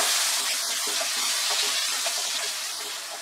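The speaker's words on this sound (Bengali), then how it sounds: "মিডিয়াম আঁচে আলুগুলোকে ফ্রাই করে নেব" Potato pieces seasoned with salt and turmeric fry in oil over a medium flame, giving a steady, close, bright sizzle with occasional crackles and no talking.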